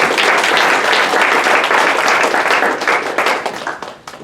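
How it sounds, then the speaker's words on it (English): A university symposium audience gives a panel a loud, dense round of applause that holds strong, then thins into scattered claps as it fades toward the end. "let's give our panel one more round of applause"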